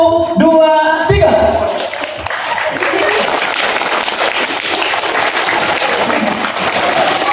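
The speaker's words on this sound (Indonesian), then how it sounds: "Ibu-ibu dan bapak-bapak tepuk tangan, tapi sambil lihat tangan saya." Large audience at an Islamic boarding school anniversary and Maulid celebration clapping hands together, a dense, loud, continuous wash of applause that follows a brief spoken count and carries on steadily to the end.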